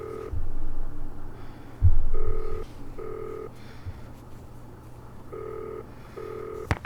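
A telephone sounds in repeated short electronic tone bursts, evenly spaced and loud, with brief pauses between the rings.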